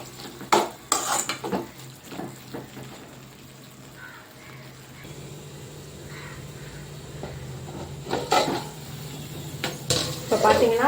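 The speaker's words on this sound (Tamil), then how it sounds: "இந்த டைமில் நம்ம அரைச்சி வச்சுருக்க இஞ்சி பூண்டு பேஸ்ட்டை சேர்த்துக்கலாம். சேர்த்துட்டு நல்லா வதக்கிக்கலாம்." Ginger garlic paste sautéing in a pan for a hot, spicy chicken gravy, with loud metal spoon scrapes and clanks against the pan at the start and end over a low, steady sizzle.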